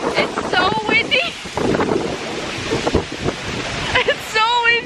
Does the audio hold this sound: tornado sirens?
no